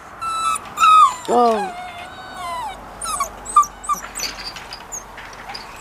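A wet dog whimpers up close in a run of high, wavering whines and soft yips, and a person speaks briefly between them.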